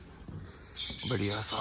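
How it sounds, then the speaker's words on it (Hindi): Birds chirp and call outdoors on a pleasant morning, thin high tweets running through the background while someone talks over them close to the mic. "चिड़िया विड़िया सब बोल रही है"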